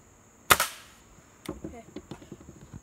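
A single sharp, loud gunshot cracks at close range at a Tonka toy truck, followed by a quick decaying tail and a few faint clicks and rattles afterward.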